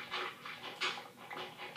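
A dog in Minecraft panting in a quick, steady rhythm of breathy huffs, close and moderately loud, with no talking.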